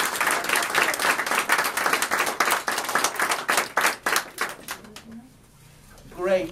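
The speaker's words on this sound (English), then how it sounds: "So let's give her an applause" Applause at a ribbon cutting ceremony for a food organization, a crowd clapping steadily for about five seconds before tapering off, followed by a brief voice near the end.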